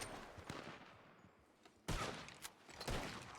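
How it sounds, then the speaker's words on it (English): Gunfire in a western video game shootout: several sharp, loud shots and bursts crack out close by, with the heaviest volley near the middle and more shots following. "Lay down some cover fire for me."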